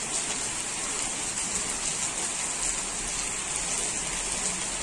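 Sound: heavy rain in Uttarakhand

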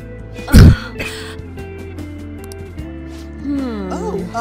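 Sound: character coughing from dust in video game Persona 5

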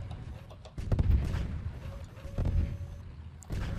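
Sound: tank gunshots hitting in video game Tanki Online

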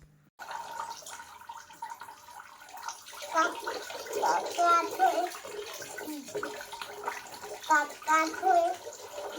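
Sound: water poured on child's head during bath

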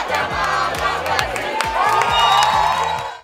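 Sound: football fans cheering a goal in a bar

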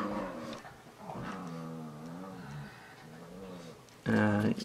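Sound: dogs play fighting, growling

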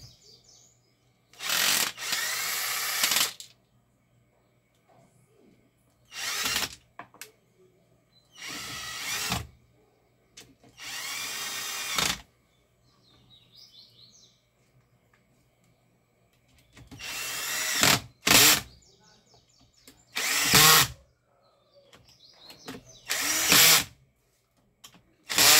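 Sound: power drill driving screws while reassembling Arno fan

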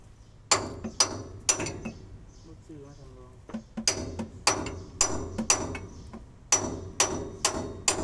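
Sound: hammering on truck leaf spring

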